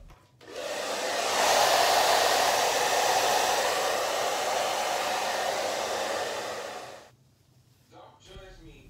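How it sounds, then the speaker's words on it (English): A handheld blow dryer roars loudly and steadily as it dries sprayed hair while styling a deep side part low bun. It starts abruptly, holds for about six seconds, then cuts off, leaving quiet room tone. "you want to smooth it out and use the blow dryer"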